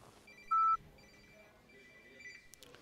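A telephone gives one short, loud electronic ring tone for an incoming call, standing out clearly over a quiet indoor room with faint background noise.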